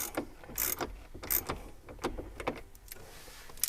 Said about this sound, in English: If you don't have one of these ratchets in your toolbox, man, you got to get one of these.